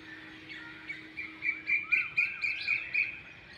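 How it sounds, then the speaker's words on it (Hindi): Birds sing at sunrise near a poultry farm, with bright repeated chirps and short tweets in a quick rhythm that build in the middle, fairly close and clear over a quiet background. "परिंदों की आवाज़ें वगैरह तो आपको आ रही होंगी।"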